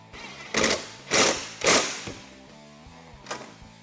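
Power tool whirring in three strong, close bursts, then a fainter fourth, as it tightens a nylock nut onto a bolt on an aluminum lower door of a Polaris RZR XP Turbo, with no talking.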